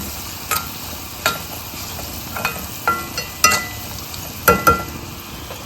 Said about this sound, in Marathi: ते आता व्यवस्थित आपण मिक्स करून घेऊया मसाला